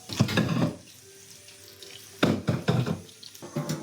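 Water runs from a tap in splashing bursts, with a quieter pause in the middle, as food is rinsed under the stream close by.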